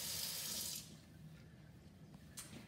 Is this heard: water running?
yes